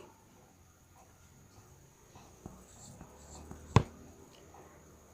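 Pen writing on paper while working a geometry problem, a faint scratchy scribbling that stays quiet and close, with one sharp tap near the end.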